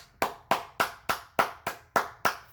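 Single pair of hands clapping in slow, even applause, eight sharp close claps spaced about a third of a second apart, alone with no talk.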